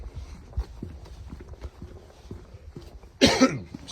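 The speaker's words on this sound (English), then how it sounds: "Excuse my cough." A single short cough rings out near the end, close by, after a quiet stretch of faint scuffing sounds.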